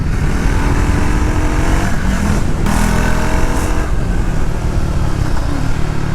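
Triumph Tracker 400 motorcycle ridden on a mix of mud and tarmac, its steady engine drone blended with heavy wind rush, loud and continuous with no talking.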